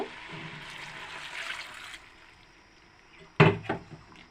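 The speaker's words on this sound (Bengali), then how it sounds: "এখন পরিমাণ মতো পানি দিয়ে দিব।" Water is poured into a pan of cooking chickpeas with green chillies, a short rushing pour lasting about two seconds, then a quieter pause and a sudden loud knock near the end.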